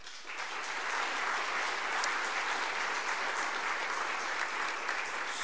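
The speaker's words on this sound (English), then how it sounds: "So a round of applause for the cadre." An audience at a Georgia Military College ROTC commissioning ceremony applauds the cadre, dense, even clapping from a large crowd that swells in and holds steady.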